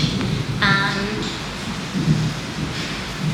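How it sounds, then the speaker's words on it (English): A low rumble of thunder rolls under steady rain near a beach, with a faint voice briefly heard in the background. "Got to hear thunder."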